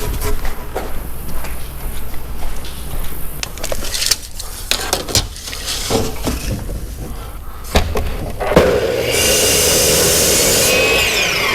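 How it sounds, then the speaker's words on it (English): Lumber is worked and shifted in a woodshop with knocks, scrapes and rubbing, then a power planer starts up as a loud steady hiss and roar near the end. "I'll just head over and get this material planed"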